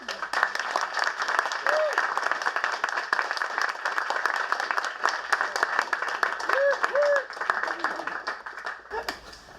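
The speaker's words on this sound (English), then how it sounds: "give him a big round of applause so that he really has a rock" Audience applause welcoming a guest speaker at a Startup Grind Sacramento event: dense, steady clapping from a crowd for about nine seconds, with a few shouts and whoops rising above it before it cuts off near the end.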